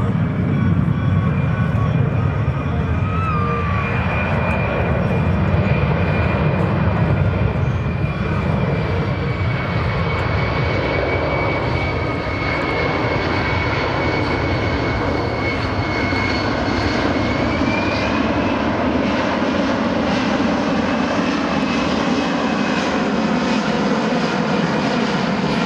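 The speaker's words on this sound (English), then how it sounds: "At show center, listen for the power to come up." A USAF C-17 Globemaster III's jet engines roar loud and steady at an airshow, a broad sustained rumble with a faint whine on top and no talk.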